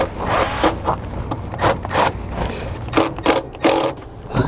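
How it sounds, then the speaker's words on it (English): A drill pre-drills a hole for a self-tapping screw while a Roadmaster battery charge line kit is mounted on a 2000 Fleetwood motorhome, giving close, gritty grinding bursts in uneven pulses. "I'm going to see if I can pre-drill a hole."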